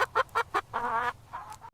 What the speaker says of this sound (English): cluck says hen